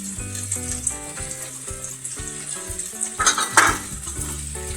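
Cut okra fries in a pan and is stirred together with spices. A continuous sizzle with stirring clinks and a louder scrape near the end plays under tonal background music.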